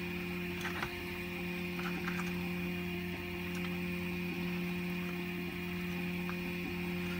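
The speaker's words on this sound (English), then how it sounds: "The noise you can hear in the background is my 3D printer printing away." A steady mechanical hum with faint whirring and small clicking movements, like a 3D printer working quietly in the background.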